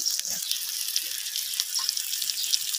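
Fish roe sizzles and fries steadily in a pan with turmeric powder and coriander, a dense, continuous crackle close up with no voices over it.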